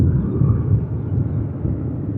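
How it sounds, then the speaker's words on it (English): A low, steady rumble of an airplane passing overhead in Hawaii, continuous and fairly loud throughout with no voices. "the sound of the airplane is not going to stop the sermon"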